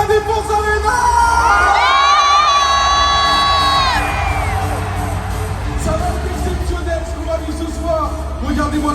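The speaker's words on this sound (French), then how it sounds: "regardez-moi cette foule, faites du bruit Paris La Défense Arena" An arena crowd at a boxing event in Paris La Défense Arena roars and cheers loudly, with a sustained whoop rising over the din for a few seconds before settling into a continuous crowd roar.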